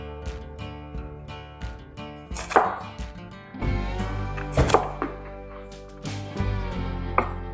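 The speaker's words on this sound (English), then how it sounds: "just go ahead and dice it up like you normally would" An onion being diced with a knife on a cutting board: repeated sharp chopping knocks in an uneven rhythm, close and clear over a steady background hum, with no talk.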